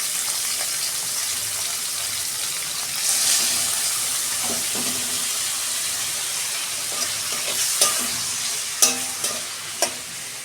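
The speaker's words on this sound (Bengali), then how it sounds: "ওই তেলেই আমি চিংড়ি মাছটা ভেজে নেব।" Prawns frying in hot oil for an aloo chingri dish give off a loud, steady sizzling hiss, with a few sharp clinks of a utensil against the pan toward the end.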